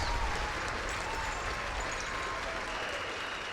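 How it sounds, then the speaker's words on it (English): A crowd at a campaign launch rally gives sustained, dense applause in honour of the Honorable Vance Amory, steady and full throughout with a slight fade toward the end. "Let's give him a special round of applause."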